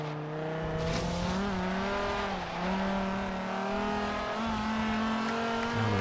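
A Corvette Z06 with its naturally aspirated LS7 V8 sustains a loud, steady engine drone in Forza Horizon 3, the pitch rising and dipping slightly as it revs through the run, with no voices.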